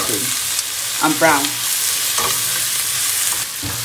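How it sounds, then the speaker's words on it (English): Kebab meat and onions fry in olive oil in a pan, making a close, continuous sizzle broken by a few scraping stirs, with no one talking. "And then I pour all of my kebab and the onions in"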